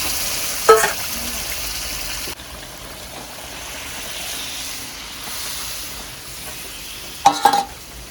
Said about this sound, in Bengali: এবারে ডালটা এর ভিতরে দেওয়া হচ্ছে।